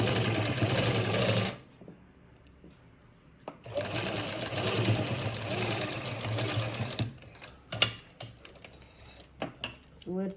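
A sewing machine runs straight stitching along a blouse made from a saree border, its steady whirring buzz in two long bursts with a quiet pause between, followed by short clicks and handling noises near the end.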